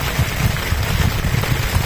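Heavy rain pours down at sea in a dense, steady hiss with a low drumming underneath, loud and continuous with no voices.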